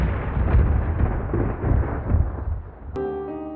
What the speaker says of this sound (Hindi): तभी दूर आसमान में बादल गरजे।